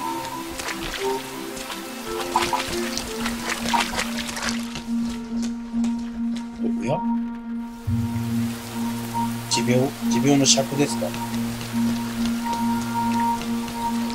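Rain pattering on surfaces in the PS3 game Rain, a continuous soft wash under a low steady tone, with a voice talking over it at times.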